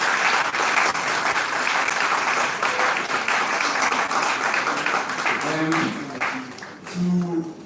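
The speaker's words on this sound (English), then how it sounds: "let's give it a big round of applause" Audience applause at an academic-practitioner conference, sustained dense clapping that holds for several seconds, then thins out as a voice begins speaking over the fading claps.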